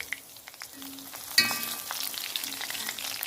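Bitter gourd frying in oil in a pan and being flipped over, a soft crackling sizzle with a sharp clatter partway through as the pieces are turned.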